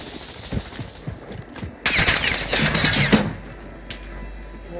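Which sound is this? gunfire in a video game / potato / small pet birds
gunfire in a video game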